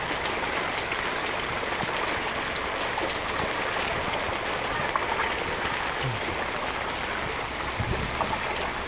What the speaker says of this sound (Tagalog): Ang grabing baha.